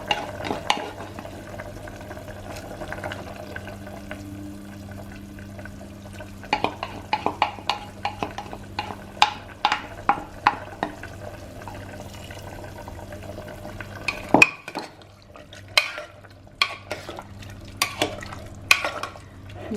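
Pounded buff meat frying in a pan for a Naga-style curry, with a steady low sizzle under repeated scraping and clinking stirs from a utensil against the pan, the strokes growing sharper and more spaced toward the end.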